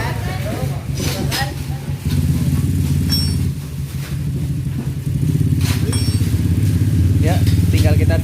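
A Kawasaki W175 fitted with an ORP7 racing exhaust idles with a low, throbbing thump, rising as the throttle is blipped, close and loud, with a person talking over it.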